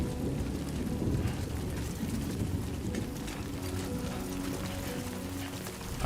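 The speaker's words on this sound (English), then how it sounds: "Rain. It's raining now." Steady video game rain pours down in a dense, unbroken hiss with a low rumbling undertone, continuous and fairly loud throughout.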